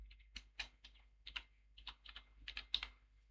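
Someone types the id command on a Linux computer keyboard, a quick irregular run of close, crisp key clicks in small bursts, alone in a quiet room.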